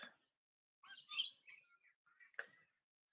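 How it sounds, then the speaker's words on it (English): Several bird chirps and short calls at dawn in scattered bursts, fairly close, with brief silences between them and no talking. "there really is a lot of birds"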